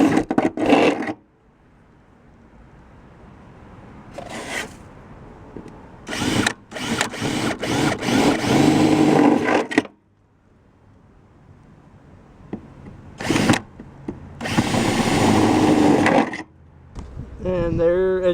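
Power drill boring drainage holes into a roof corner, in several bursts of whirring separated by pauses, close by, with brief scraping and some talk between bursts.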